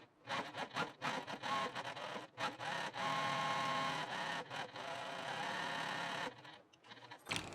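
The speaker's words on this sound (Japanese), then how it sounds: "見返し端 5mm のところを粗い縫い目で縫います。" Sewing machine stitching a facing edge with coarse stitches, a close rapid mechanical whirring run in bursts with short pauses, then stopping near the end.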